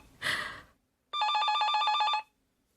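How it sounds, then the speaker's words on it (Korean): An old-fashioned telephone bell rings once in a single sustained, loud metallic trill lasting about a second, preceded by a brief breathy rustle and followed by silence. "전화벨이 울렸다."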